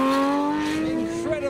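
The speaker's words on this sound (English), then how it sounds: "Incredible sounding car." A Porsche GT3 RS drag racing a new Audi RS6, engines screaming loud and close with a high rising howl through the whole burst.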